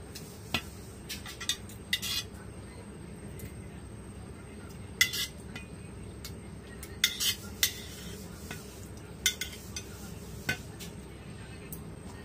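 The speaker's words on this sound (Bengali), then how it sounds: "তাহলে ছোট চাকু দিয়ে আমি কুচি কুচি করে কেটে নিয়েছি। এখন এগুলোকে একটি জগের মধ্যে দিয়ে দেব।" Finely chopped lychee pieces dropped into a jug with a small knife or spoon: light irregular clinks and taps of utensil on container over a low steady background, with no talking.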